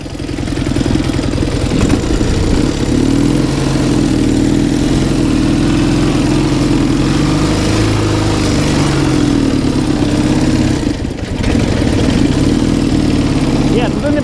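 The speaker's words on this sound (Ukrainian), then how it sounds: "А мотоцикл у нас їде і назад." An MT motorcycle engine runs steadily and loudly close by, a continuous low rumble that barely changes for the whole stretch.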